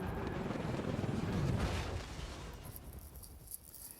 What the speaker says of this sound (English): That's a helicopter flying at me.